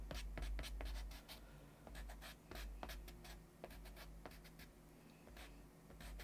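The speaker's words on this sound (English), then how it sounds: "I'm going to take my eraser. I'm going to erase the circle around." An eraser rubs out pencil lines on paper, giving quick, faint scratchy strokes in irregular bursts close to the surface, with no talking.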